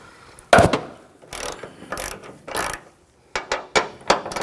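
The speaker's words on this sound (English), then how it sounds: "Using a 13mm socket, loosen these nuts." A ratchet with a 13mm socket loosening the hood hinge nuts on a 2014-2020 Nissan Rogue, giving close, loud bursts of clicking, first a few separate runs, then quicker short strokes near the end.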